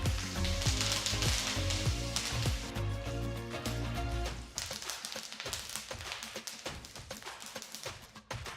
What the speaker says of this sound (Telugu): నెక్స్ట్ ఇందులో కొన్ని కరివేపాకులు కూడా వేసి వేయించాలి